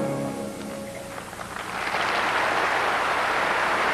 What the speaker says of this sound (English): Listen to the appreciation extended by the capacity crowd here in Peking